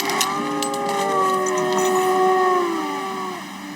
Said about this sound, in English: You just hear a wolf howl. Did you hear that?